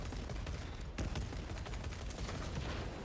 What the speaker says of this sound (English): We take fire from our left